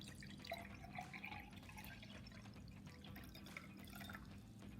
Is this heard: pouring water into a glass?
yes